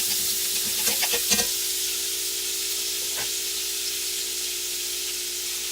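Pork steak fries in a pan with plenty of butter, giving a loud, steady sizzle and hiss. A few quick stirring or scraping clatters come early, and no one speaks.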